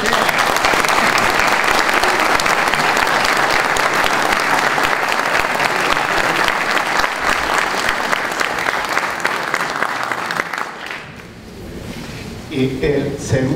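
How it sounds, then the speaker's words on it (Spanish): Sustained audience applause fills a public security debate hall, loud and dense for about ten seconds before thinning, with voices breaking through near the end. "¿No se merece un aplauso?"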